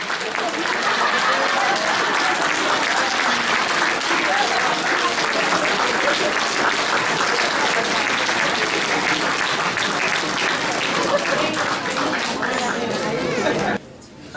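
A crowd at a church's 25th anniversary celebration in Kathmandu breaks into sustained, dense applause lasting over a dozen seconds, with chatter and voices mixed in before it cuts off abruptly.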